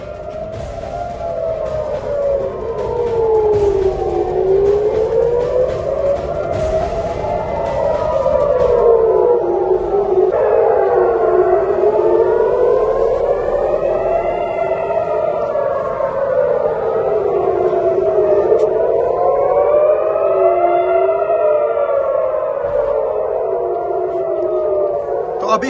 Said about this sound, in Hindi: लगातार सायरन बज रही है।